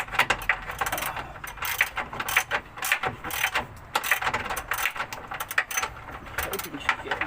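A ratchet wrench threads a nut and bolt back on during work on a Ford Territory SX conversion, giving close, quick bursts of metallic clicking in an uneven rhythm.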